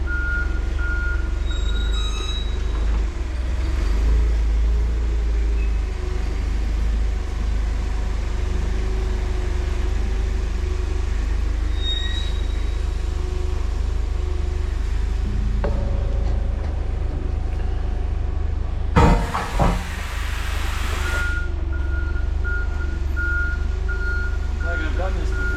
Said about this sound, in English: he'll pull it backwards with the forklift